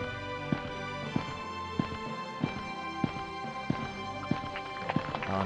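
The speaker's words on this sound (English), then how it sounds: "Oh, that's a good trot." Horse hooves in the Equestrian Showcase video game trot with a regular clip-clop rhythm, each hoof strike a crisp, evenly spaced click over a steady bed of game background sound.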